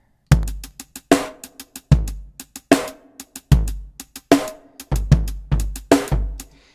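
Ableton plays back a sequence of synthesized notes in a quintuplet polyrhythm, each sharp-attacked hit decaying quickly. Groups of uneven, lopsided pulses repeat in a loop, clear and up front with no voice.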